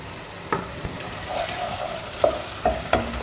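Punjabi potato curry fries in a pan with a soft continuous sizzle, while a few sharp utensil taps and scrapes against the pan come through up close, and no one speaks.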